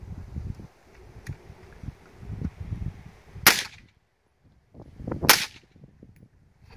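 Two loud suppressed semi-automatic shots from a PDW Honey Badger pistol fitted with a suppressor, about two seconds apart, each a sharp crack with a short tail, outdoors over low rustling background.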